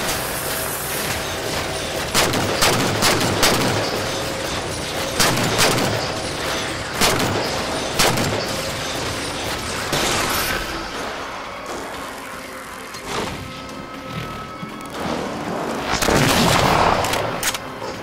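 An auto sentry turret in Halo 4 fires repeated sharp bursts of gunfire, loud and close, in rapid volleys with short pauses.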